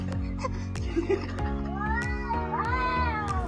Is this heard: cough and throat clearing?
no